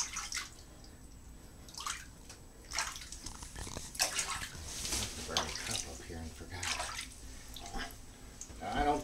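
Tap water runs and splashes in a tub while a puppy gets her first bath, the flow rising and falling in bursts with drips, and a person talks softly over it.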